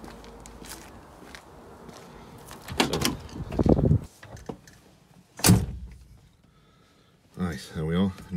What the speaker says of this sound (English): nice solid clunk as we get in the car